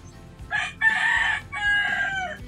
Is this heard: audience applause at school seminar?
no